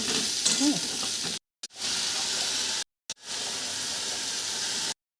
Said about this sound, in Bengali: মশলাটা অনেকটা ভাজা হয়ে গেছে